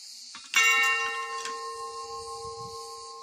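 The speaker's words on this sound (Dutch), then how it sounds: "Maar dit is een of andere lijpe bel." A large bell on Kos, Greece, is struck once, ringing out loudly with a long, shimmering sustain that slowly fades, with faint background noise and a second light strike.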